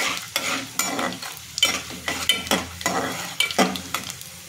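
Peanuts roasting in a hot pan are stirred in quick, rhythmic strokes, each one a dry scraping rattle over a faint sizzle, close and clear with no talking.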